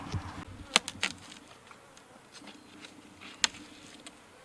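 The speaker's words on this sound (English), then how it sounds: "Any bees coming and going? That's just robbers?" Robber bees buzz around a polystyrene beehive of four deep boxes, a faint steady drone with a few insects passing close by, and no talking.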